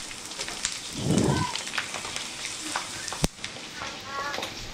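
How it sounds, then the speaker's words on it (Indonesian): Pork skin crackers hitting hot oil for a second frying, a steady dense sizzle that swells briefly with a louder bubbling burst, with a voice talking over the frying throughout. "Nah dan ini proses menggoreng kedua."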